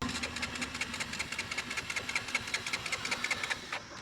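KTM RC 125 motorcycle engine cranking over and failing to start, a fast even chugging of the starter and engine churning for several seconds, close and steady, then stopping.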